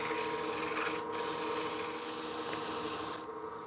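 A wood lathe turns a wet-blank bowl, giving a steady loud whirring hum with a rough scraping hiss of wood being cut. It continues without a break and eases slightly at the end.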